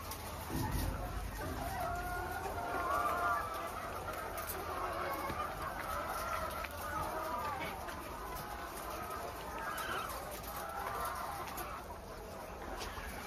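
A dense, steady chorus of many layer hens clucking fills an enclosed poultry shed, with occasional faint voices and a distant crow.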